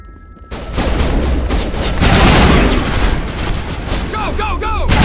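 Sustained gunfire in the video game Mass Effect, a loud dense fusillade of rapid shots and booms running throughout, with voices shouting over the battle.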